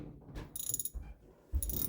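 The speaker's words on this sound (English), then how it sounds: "is a 3/8 socket, and we're going to give it a few cranks" A 3/8-inch socket ratchet tightens a foundation tie rod, clicking through a few close, sharp cranks with brief pauses between strokes.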